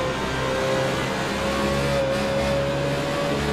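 On the last lap at Homestead, a race car engine holds a steady, moderately loud whine, a continuous running tone with no breaks.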